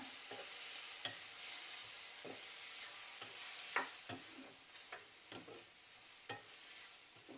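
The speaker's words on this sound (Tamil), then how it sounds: "தக்காளி வெங்காயம் நல்லா வதங்கணும்" Tomato and onion sautéing with turmeric in a pan for onion tomato thokku, a steady soft sizzle broken by regular scraping stirs of a spoon, close and moderately loud with no talk.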